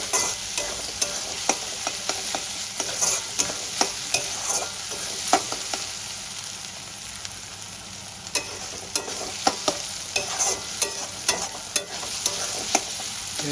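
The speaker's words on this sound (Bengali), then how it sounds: "পেঁয়াজটা আমি বেশ সুন্দর করে ভেজে নেব।" Onions fry in a pan for a raisin chicken dish, a constant close sizzle punctuated by repeated spatula scrapes and taps as they are stirred, steady and moderately loud.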